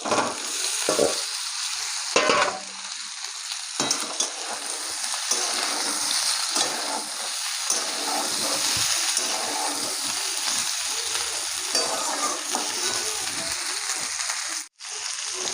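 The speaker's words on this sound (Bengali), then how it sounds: "এটাকেও এখন আমি ভালো করে ভেজে নেবো" Raw jackfruit frying in a pan makes a loud, continuous sizzle with occasional stirring scrapes and clatter, steady throughout with no voices.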